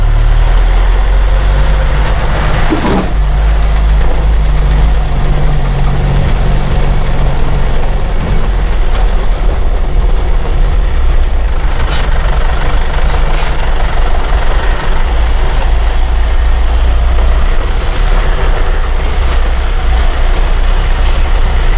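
Car engine running in second gear while coasting down a small slope on a narrow road, engine braking engaged; a steady low rumble holds throughout with a few brief sharp knocks and no talk.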